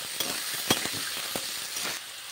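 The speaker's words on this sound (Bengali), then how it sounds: "পেঁপে আলুটা আমি কড়াইতে দিয়ে দেব। ভালো করে এরপর নাড়িয়ে নেব।" Papaya and potato pieces hiss in hot oil in a kadai while a spatula stirs them, with a steady sizzle broken by a few sharp scraping clinks.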